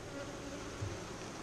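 Carniolan and Buckfast honey bees buzzing inside an opened hive, a faint, steady drone close by, brief and unbroken.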